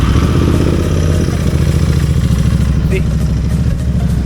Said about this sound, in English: you turn on the bike, do not accelerate, start the bike, leave it for 5 minutes